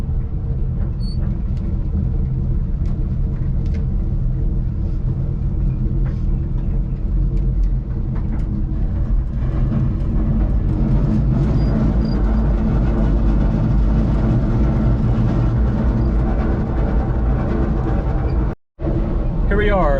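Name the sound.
1980 Chevy C70 truck engine rumbling and struggling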